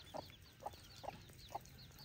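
A hen near her six chicks gives four short, evenly spaced clucks, close and moderately loud over a quiet farmyard background.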